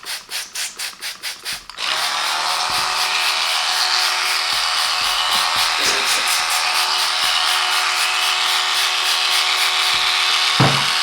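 An Oral-B Pro 3 3500 Cross Action electric toothbrush starts with a few quick pulses, then runs on as a steady, loud, high buzzing whir for several seconds, with a little faint rubbing.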